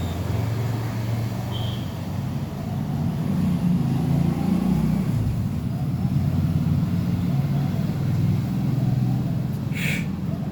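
A car engine runs steadily in third gear, giving a continuous low, rumbling drone throughout that stays close and even, with faint voice-like murmur in the background.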